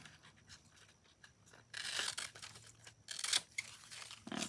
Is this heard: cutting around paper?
yes